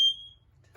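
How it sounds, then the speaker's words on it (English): Four smoke alarms sounding at once during a test in a rental caravan, a single sharp, piercing high beep that cuts off quickly and then rings out. "all the 4 alarms have gone off simultaneously"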